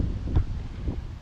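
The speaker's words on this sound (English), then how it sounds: "you'll notice it's windy today." Strong wind on a woods walk in Maine during a hurricane, heard as low, rumbling gusts buffeting the microphone, steady throughout with two brief stronger puffs.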